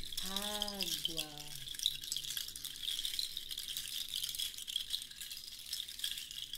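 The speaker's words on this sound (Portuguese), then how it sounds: "O som desse instrumento parece água." An indigenous rattle made of seed shells fixed to a cord shakes in a continuous watery, rustling patter, with a brief voice at the start before the rattle continues alone.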